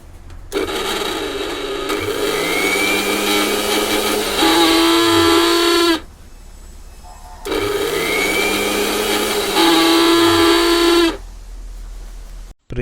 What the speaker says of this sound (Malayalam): മിക്സി ഓണാക്കി കഴിയുമ്പോൾ ഒരു വലിയൊരു സൗണ്ട് കേൾക്കുകയാണ്. ഭയങ്കര വൈബ്രേഷനോട് കൂടി ഒരു സൗണ്ടാണ് കേൾക്കുന്നത്.